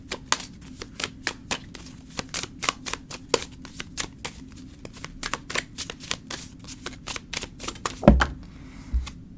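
A tarot card deck is shuffled close by, a fast, even run of crisp card taps and riffles that continues almost without pause, ending with a soft thump and a brief fumble.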